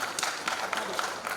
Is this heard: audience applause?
yes